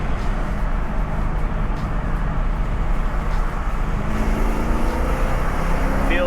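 A 1988 Ford Mustang 5.0 with a five-speed, held in second gear, gives a steady low engine drone and road rumble heard from inside the cabin, with no voices.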